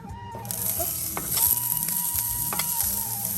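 Onion sizzles in hot oil in a pan for nachos while a spoon stirs it, a close steady frying hiss broken by soft scraping and clinking strokes.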